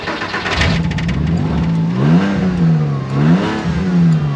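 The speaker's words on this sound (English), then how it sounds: "built up in the injectors, and now it starts up" A Porsche Boxster engine, recently cleared of buildup in its injectors, fires up close by and revs loudly, its pitch climbing and dipping over several seconds with no talking.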